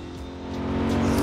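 Corvette C8 engine in Forza Horizon 4, driven in the rain, roars steadily and builds in loudness as it accelerates, a loud, close, continuous tone with no talk.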